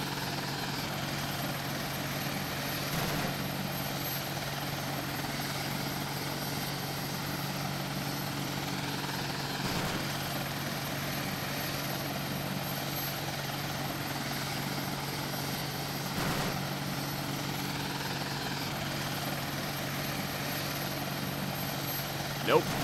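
Helicopter flying in the video game Arma 2, a steady rotor and engine drone with a low throb running unbroken throughout, moderately loud from inside the aircraft.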